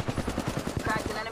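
Rapid automatic gunfire in the shooter video game Apex Legends, a quick run of close, punchy shots ending in a sharp louder burst.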